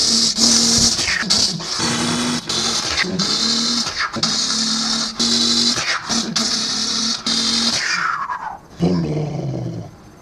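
A voice imitates a 1,000 horsepower Nissan Skyline GTR R34 engine, with loud, close, raspy bursts of revving broken by short gaps between shifts, ending in a falling growl.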